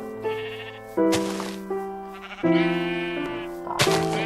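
Sheep in the Minecraft video game bleat repeatedly in clear, nasal, wavering calls, several overlapping in quick succession, loud and close with no talk over them.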